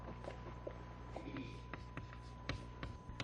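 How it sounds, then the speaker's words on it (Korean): A pen writes by hand on a document, a stream of soft scratching strokes with small taps, close and quiet over a steady low hum, with no speech. "자, 거기에 대해서 작성 방법을 제가 간단하게 한번 써볼게요."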